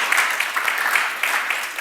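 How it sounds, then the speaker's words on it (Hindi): Indoor audience applause at a Hindi Diwas celebration, a brief, dense burst of many hands clapping at an even, fairly loud level. "जोरदार तालियां आप सभी के लिए।"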